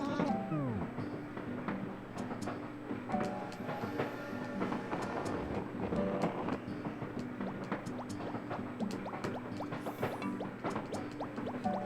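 Train ride in Animal Crossing: a steady rhythmic rumble with repeated clicks and rattles continues throughout, with a few light tonal chimes over a moderately loud, even backdrop.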